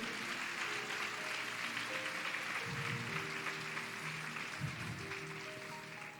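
A church congregation claps during a Sunday service celebrating communion and confirmation, a faint, steady spread of many hands heard from a distance, with low tones and murmurs underneath.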